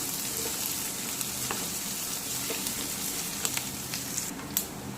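Shallots and garlic sauté in a pan with a steady, close, crackling sizzle that runs throughout. Light clicks and scrapes of stirring break through now and then, and no one speaks.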